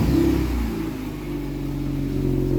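A bagged 2018 Kia Stinger with an ARK mid pipe exhaust revs up close and loud, its deep growling engine note swelling, dipping briefly, then holding steady through a sustained rev.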